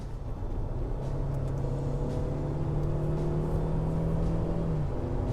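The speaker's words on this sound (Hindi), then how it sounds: "तो ये आवाज़ आपको आएगी जब आप हार्ड रेव करें" A Tata Harrier petrol automatic revs hard in sport mode, heard from inside the cabin, its droning pitch climbing steadily for several seconds before dropping off abruptly.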